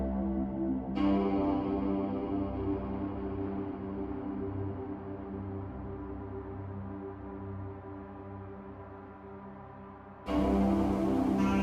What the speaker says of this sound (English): track 1 has some distortion on here.